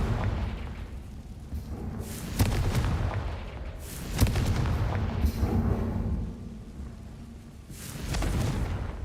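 Confringo spell explosions in Hogwarts Legacy, several heavy booming blasts spaced a couple of seconds apart over a rumbling low background.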